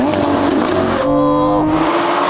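Lamborghini Aventador Ultimae Roadster tuned by Novitec, its engine roaring loudly and continuously close by with rising and shifting revs like a hard run through the gears.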